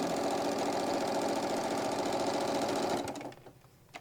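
A sewing machine basting stitches runs fast and steady with a rapid mechanical chatter, then slows and stops near the end.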